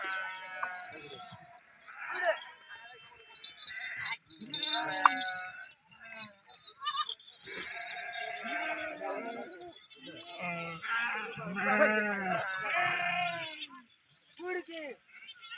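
A flock of sheep and goats bleats repeatedly while heading out to graze in a field, with many overlapping calls, some close and loud, others softer.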